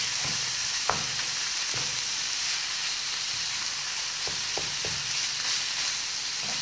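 Minced meat (kofta) being crumbled and fried with onions in a pan, heard as a continuous close sizzle with occasional spoon scrapes and knocks, with no voices.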